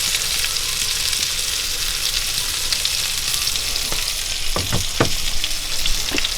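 Bacon and mushrooms with sausage, apples, celery and onions frying in a pan, a constant close sizzle with a few sharp crackles and pops near the end.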